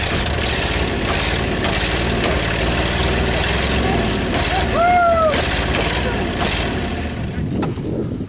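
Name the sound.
1959 Ford Custom 300 engine running after 46 years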